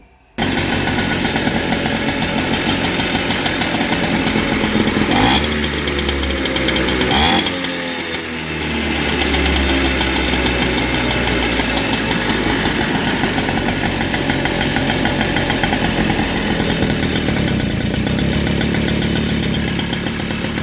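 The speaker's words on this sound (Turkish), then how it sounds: "Motoru çalıştıralım, sestirelim." A small Peugeot scooter engine runs loudly and steadily up close, with a brief rev and dip early on before settling back into a buzzing idle.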